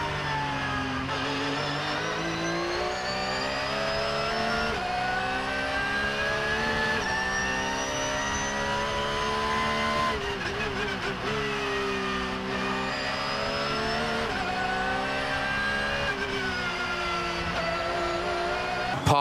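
Race cars at the ADAC 24 Hours Nürburgring 2024 whine past in a continuous, slowly shifting engine drone, with rising and falling revs from several cars at a distance.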